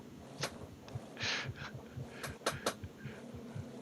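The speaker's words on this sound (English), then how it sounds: "do you have a heartbeat sound effect going?" A heartbeat sound effect plays during an online Roll20 Dungeons & Dragons session, a faint, steady low thumping pulse with soft clicks and noises scattered over it.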